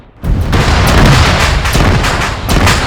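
Explosions and heavy fire roll through a loud ArmA 3 battle against BMPs. A sudden onset gives way to a dense, continuous rumbling barrage with repeated booms, very loud and close, with no talking.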